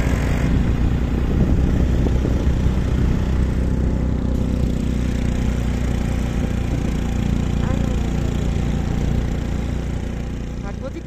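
A motorcycle engine runs with a steady, loud, low rumble that holds for the whole stretch and eases slightly toward the end, with people talking faintly underneath.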